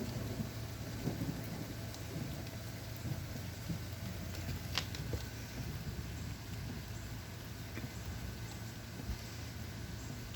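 Steady rain falling outdoors near a house with a fire pit, a constant dense hiss and patter with faint low rumbles that suggest distant thunder, even and fairly quiet throughout with no voices.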